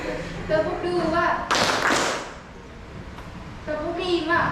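A group of children clap together on command in a classroom clapping game, a burst of loud claps between stretches of talk.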